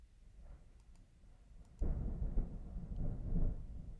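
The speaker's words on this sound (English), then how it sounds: "Oh, man. Can y'all hear that thunder?" Thunder from a storm breaks in suddenly after a quiet stretch, rolling into a loud, deep, sustained rumble that swells and stays heavy until the end.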